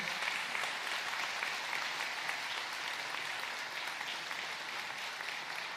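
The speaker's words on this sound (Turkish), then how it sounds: "Güçlü alkışlarınızla efendim." A large crowd claps steadily. The applause is dense and even and carries on throughout, with no voices on top.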